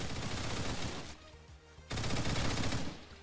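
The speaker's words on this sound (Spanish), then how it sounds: "Le disparamos a uno por lo menos." Sustained automatic gunfire in Roblox Phantom Forces, dense rapid shots roaring loud and close, breaking off briefly in the middle before a second heavy burst.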